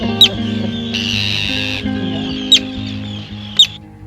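Terns on Grimsey Island, Iceland, give three sharp, high calls spread across a few seconds over a steady low hum, with a brief louder burst of sound in the middle.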